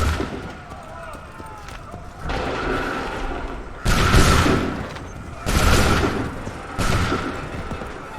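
Musket volleys in Assassin's Creed 3 crash out as three loud, broad blasts a second or two apart, each one roaring and then fading, with voices shouting commands in between.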